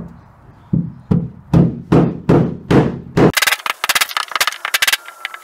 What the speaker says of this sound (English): We're gonna use a wood and masonry chisel to unbind this thing.